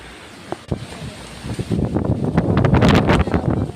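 Strong monsoon wind near a waterfall roars and buffets the microphone, starting softer and swelling into a loud, rumbling gust in the second half.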